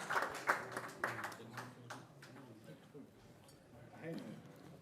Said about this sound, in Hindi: जोरदार तालियां हो जाए श्री मुश्ताक अंसारी जी,